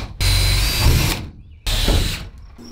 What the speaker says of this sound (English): I can always drill another hole